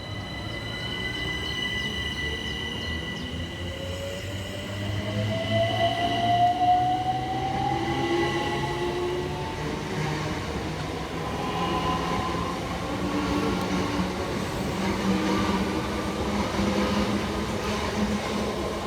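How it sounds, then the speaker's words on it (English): Southeastern class 376 units 376011 and 376012 departing Hayes station: a continuous rumbling roar of the electric train pulling away, with rising whining motor tones and faint wheel squeal throughout. "Next to depart from the station is 376011 and 376012 with the 1630 Southeastern service from Hayes through to London Charing Cross."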